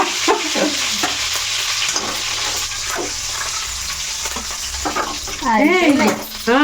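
Steady hiss of spices frying in hot oil with occasional stirring clinks; a brief whistling tone rises near the end.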